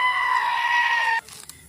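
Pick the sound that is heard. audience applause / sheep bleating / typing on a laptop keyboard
sheep bleating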